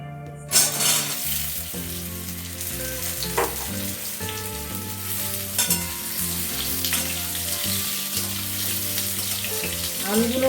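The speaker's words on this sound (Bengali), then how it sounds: "আলুগুলো অল্প অল্প ভাজা হলে" Potatoes for aloo dum fry in a pan with a continuous loud sizzle, broken by occasional clinks and scrapes of stirring.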